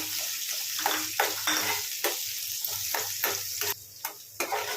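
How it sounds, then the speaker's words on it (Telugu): Chopped onion pieces fry in a hot pan with a steady, loud close-up sizzle, broken by intermittent scraping and stirring strokes, and no voices. "ఇప్పుడు కట్ చేసిన ఒక ఉల్లిపాయ ముక్కలు వేసుకుందాం"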